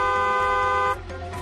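A steady, loud car horn blares for about a second as one continuous held note, then cuts off abruptly, leaving a low background hum.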